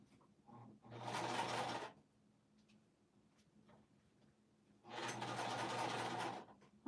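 Sewing machine stitching PVC fabric while making a zippered pouch: two close, steady bursts of rapid mechanical whirring, each about a second long, separated by a quiet gap with faint clicks and handling noise.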